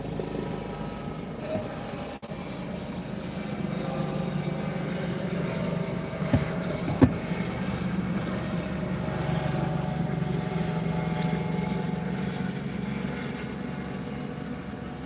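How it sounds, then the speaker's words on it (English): A steady low droning roar of a helicopter flying over a beach fills the scene, constant and moderately loud, with a couple of brief thumps partway through. "that was kind of a loud helicopter"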